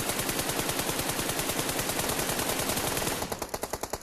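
Rapid automatic gunfire in PUBG, a long sustained burst of evenly spaced shots that is loud and close, briefly changing character near the end as the firing thins into separate reports.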